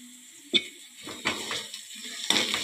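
Onions, garlic and chillies fry in a pan for egg fried rice, a faint steady sizzle with a few scrape-and-clink stirring hits of a utensil against the pan, fairly close.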